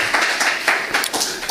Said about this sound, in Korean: 우리 아이들 무럭무럭 좀 잘 크고 또 격려해주는 의미로 다시 한번 박수 쳤으면 좋겠습니다